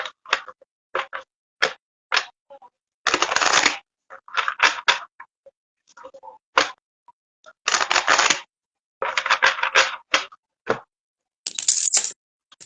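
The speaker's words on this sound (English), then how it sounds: "I'm still doing my shuffle." Oracle cards are shuffled by hand during a card-reading class, in close, crisp bursts of riffling and snapping separated by short silent pauses, with longer flurries now and then and no voices.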